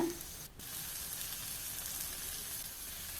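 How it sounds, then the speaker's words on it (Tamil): Paneer cubes stir-frying in spiced masala in a pan over a high flame, a steady close sizzle and crackle throughout with one brief dip near the start. "எல்லா பன்னீரையும் இதில் போட்டுட்டு உடனே அடுப்பை மறுபடியும் ஹை ஃப்ளேமில் வச்சு மறுபடியும் கிளற ஆரம்பிச்சிருங்க"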